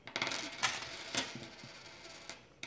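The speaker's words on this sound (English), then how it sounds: "So he takes out 4 pennies." Pennies are taken out and dropped, giving a few sharp metallic clinks and taps spaced across the moment, close and fairly quiet.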